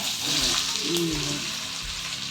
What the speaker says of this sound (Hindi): आलू फ्राई कर दिया